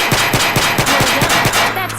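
Rapid automatic gunfire in the PSVR video game Dark Legion, a steady burst of roughly ten sharp, evenly spaced shots over two seconds, loud and close with no talking.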